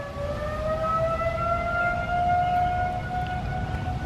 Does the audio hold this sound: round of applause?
no